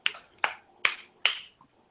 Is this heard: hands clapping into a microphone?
yes